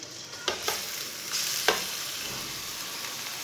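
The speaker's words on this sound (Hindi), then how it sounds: "कद्दूकस किया हुआ कद्दू डाल लेंगे" Grated pumpkin frying in hot oil for halwa, a steady close sizzle with a few sharp stirring scrapes of a spoon, no voices.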